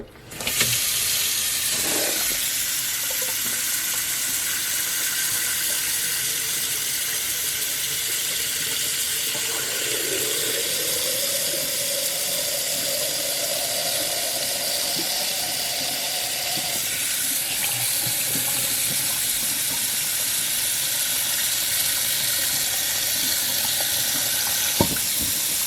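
Hot water from a tap pours steadily into a sink with its drain covered, a loud continuous hiss and rush that carries on unbroken, with a faint tonal rise partway through as the level changes.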